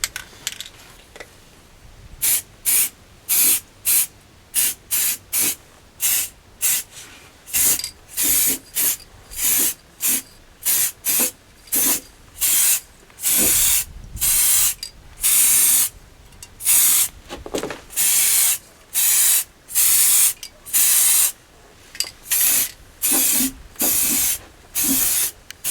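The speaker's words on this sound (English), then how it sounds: "I got myself a can of white primer, so my overspray won't look too unsightly" An aerosol can of white primer hisses in many short, even bursts, with brief quiet gaps between each spray, close and steady throughout.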